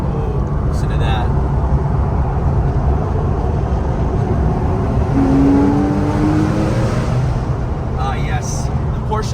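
A sports car engine roars and revs steadily at close range, a loud continuous growl with rising pitch sweeps, mixed with faint voices in the background.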